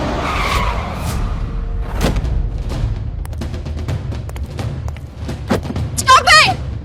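Car tires skid hard to a stop, a bright squeal rising near the end over a steady noisy rumble, with people speaking around it.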